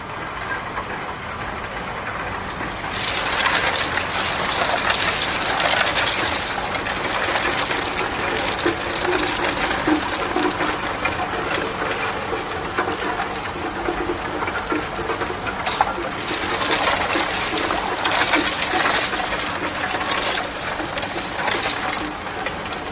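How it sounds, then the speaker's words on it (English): A flooded-refrigeration tube ice machine runs at production, giving off a loud, steady mechanical hum and rattle layered with broad hissing that swells in two long bursts, with no voices. "this is the video to show the quality of ice tubes made by our flooded refrigeration cube ice machines"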